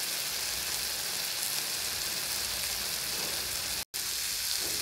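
Small shrimp simmering in a pan of salty-sweet sauce until it thickens, a steady close hiss and sizzle of bubbling liquid, broken by one brief cut to silence near the end.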